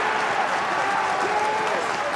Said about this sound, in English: that gets a huge cheer from the East stand